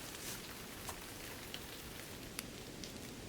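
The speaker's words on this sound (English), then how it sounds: "A sudden shower of rain has ruined the best-laid plans of the pollen grains." A sudden shower of rain patters steadily on surfaces, a dense, even hiss of drops with a few sharper individual taps standing out, heard alone without voices.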